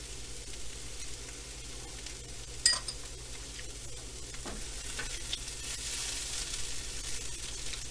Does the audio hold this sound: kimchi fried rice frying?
yes